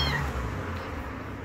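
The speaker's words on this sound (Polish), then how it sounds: "kot gdzieś sobie pomiałkuje" A short, high meow from a cat somewhere at a distance in Kuşadası on Turkey's Aegean coast, over faint background noise.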